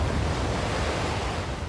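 Ocean waves break steadily against a shore, a loud, continuous broadband wash of surf with wind rush and no distinct pauses, heard alone throughout.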